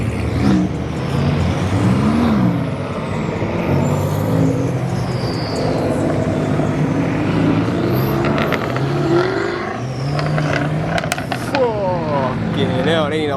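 At a car meet, engines and exhausts rumble and rev as cars pass. Loud motor noise rises and falls under excited voices and shouting throughout.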